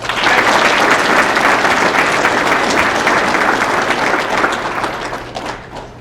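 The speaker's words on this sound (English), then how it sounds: "let's give all the award recipients another round of applause" Sustained, dense applause fills a graduation ceremony for award recipients of a Border Patrol academy class, loud and steady throughout before tapering slightly at the end.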